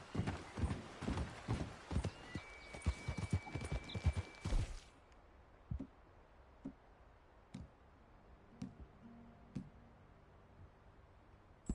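A horse gallops with rapid, loud hoofbeats in Red Dead Redemption 2, then slows to sparse, fainter clops and ticks as the run eases off, heard close with no talk.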